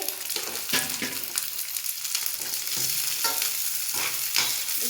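Garlic frying in a pan while being stirred, a continuous crackling sizzle broken by scraping strokes and soft clatters at an irregular rhythm, up close.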